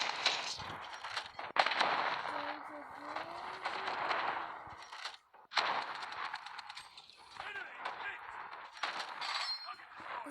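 Gunfire from boats in the naval video game War of Boats, with repeated sharp shots and crackling bursts over a continuous engine-like hum and game noise, loud and irregular, with brief near-silent gaps between.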